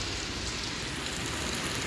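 Steady winter rainfall in Rome, a dense even hiss of drops on surfaces heard from a balcony, continuous and moderately loud with no voices.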